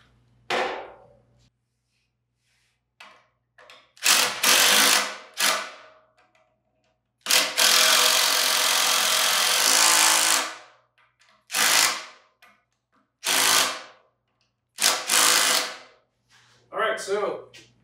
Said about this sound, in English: drive this one in so it holds it so I can put my lag screws in